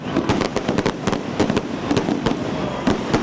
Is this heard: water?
no